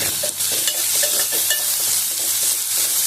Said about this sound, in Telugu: ఇప్పుడు ఉల్లిపాయ వేసినాక 1 నిమిషం పాటు వేగనిచ్చి